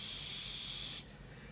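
A steady, loud spray hiss of an isopropyl alcohol paint mixture for about a second while weathering a 1/32 Spitfire scale model, then it cuts off abruptly into quiet.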